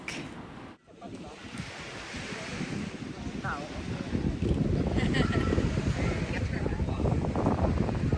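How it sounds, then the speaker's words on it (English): Ocean waves wash and splash continuously at Malapascua Island, loud and close, with blustery wind buffeting the microphone throughout. "listening to the splashes of the waves was fantastic"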